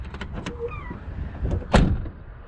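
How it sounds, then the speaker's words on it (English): Door of a 1984 Chevrolet Silverado slamming shut, a single solid close thump after a few lighter clicks and rattles of the handle and latch, with no talking. "listen to the sound of that door."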